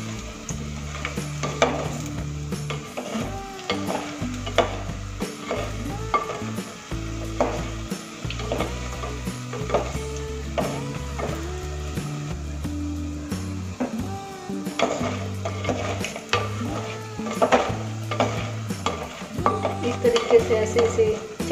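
Pakoras for kadhi cooking in a pot, stirred now and then: a soft continuous sizzle under repeated spoon scrapes and knocks against metal, close and busy, with a low background hum.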